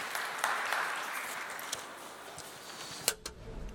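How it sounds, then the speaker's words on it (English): Audience applause at an open data conference forum, with a dense wash of clapping that thins out before a few sharp, louder claps near the end. "Ladies and gentlemen, your round of applause."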